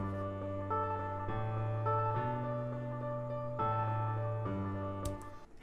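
Low, sustained bass notes played on a keyboard shift step by step in slow, even changes, each held for about a second, clear and alone.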